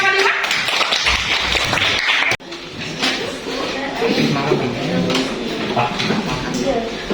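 Classroom applause for a student group, dense clapping that fills the whole stretch, cut off briefly midway before resuming, with voices mixed in.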